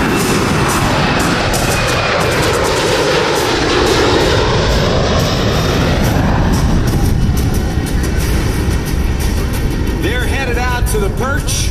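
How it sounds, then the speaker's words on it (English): Loud, continuous jet engine roar builds steadily as a Boeing P-8 Poseidon patrol jet, based on the 737 airliner, powers up for takeoff at an airshow, with a faint announcer voice talking underneath. "Based on the Boeing 737 airliner, this is the P-8 Poseidon."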